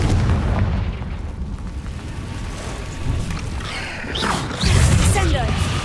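Booming spell explosions from the Confringo fire curse in Hogwarts Legacy, heavy low blasts swelling over continuous rumbling combat noise, with a voice calling out during the fight.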